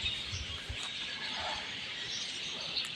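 Continuous bright chirping from many birds in an aviary in Balesin fills the background, a steady busy chorus with no voices.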